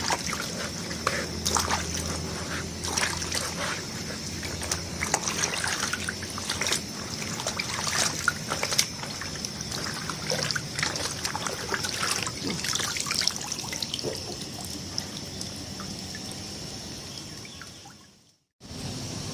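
Batik fabric being rinsed and washed by hand in water after its wax has been boiled off, with steady splashing, trickling and sloshing close by, alone throughout, ending in a brief drop to silence.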